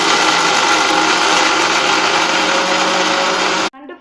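A mixer grinder whirs loudly and steadily, grinding fried masala for a crab gravy, then cuts off abruptly near the end, leaving a short faint clatter.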